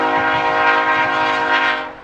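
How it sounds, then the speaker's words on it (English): A train sounding a loud, sustained horn near a baseball field, one steady blast that holds and then fades near the end. No talking is heard over it. "there's that lovely train"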